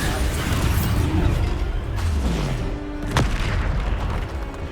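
A Bombarda explosion spell goes off in Hogwarts Legacy, a heavy booming blast with a sharp crack and rumbling debris, set against dense continuous game noise.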